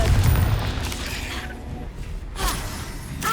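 A Confringo blasting spell bursts in the video game Hogwarts Legacy, a loud boomy explosion up front followed by rumbling debris and a second sharp crack near the end, with no talk.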